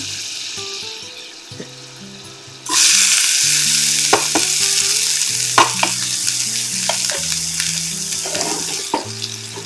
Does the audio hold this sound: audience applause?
no